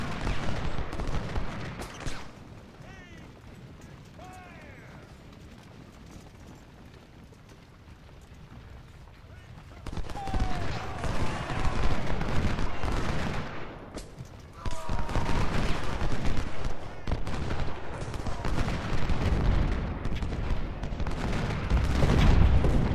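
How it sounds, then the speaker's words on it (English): Artillery booms and volleys of musket gunfire from the Ultimate General: Civil War game, Battle of Shiloh, roll on steadily throughout, with sharp crackling bursts and deep rumbles that swell louder after a quieter stretch. "got artillery moving in."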